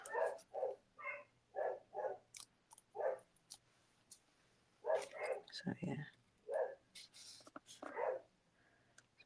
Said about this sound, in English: Must be somebody definitely outside because they haven't stopped barking.